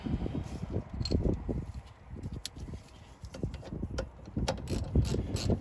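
A socket wrench ratchets in irregular bursts of close clicks while a brake caliper bolt is tightened on a car's rear brake, with some soft knocks of handling between the bursts.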